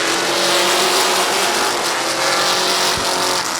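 Street stock race cars roaring as they accelerate together at a green flag start at Midvale Speedway, a loud, dense wall of engine noise with a hint of tire squeal, no voices audible.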